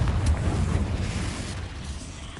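A Confringo blasting spell going off in Hogwarts Legacy, a loud rumbling explosion that swells at the start and slowly decays over a couple of seconds, heard alone.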